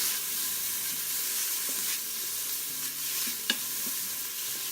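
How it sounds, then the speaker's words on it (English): Onions, ginger, garlic, green chilies and celery stirred lightly in a pot, with a soft steady sizzle and a few quiet spoon scrapes and taps, no voices. "I'm just going to give it a light stir"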